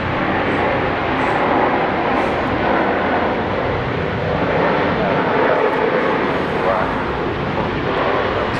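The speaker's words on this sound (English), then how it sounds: "That's beautiful Air New Zealand, Dean. Almost a 3-point touchdown." An Air New Zealand airliner landing at Brisbane Airport, a broad continuous roar of engines and rushing air holding steady through the clip at moderate distance, with no clear voices over it.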